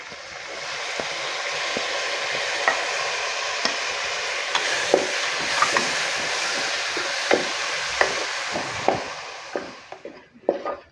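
Chopped tomatoes hiss into a pan of toasted spice masala for a Kerala-style cauliflower stew, a steady broadband sizzle broken by scattered scraping clicks of a spoon stirring, close and fairly loud with no talk.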